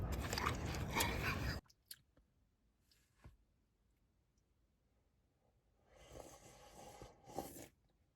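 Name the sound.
eating watermelon in a car at night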